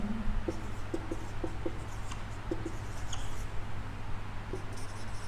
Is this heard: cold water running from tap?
no